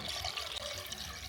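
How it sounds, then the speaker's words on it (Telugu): Water poured onto tamarind pulp in a vessel for Ugadi pachadi, a steady close splashing stream running throughout the short moment without any voices. "వేసిన తర్వాత ఇప్పుడు నీళ్లు పోస్తున్నాము."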